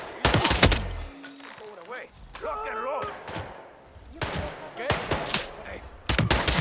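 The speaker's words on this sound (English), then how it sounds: "Gunshot!" Gunfire in the Hitman 3 video game: several loud, sharp shots crack in bursts at the start and end, with shouted voices between them.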